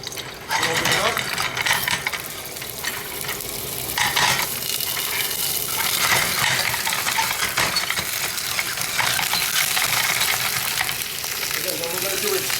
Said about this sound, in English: It's already smoking, so you know it's hot. You feel them bad boys sizzling.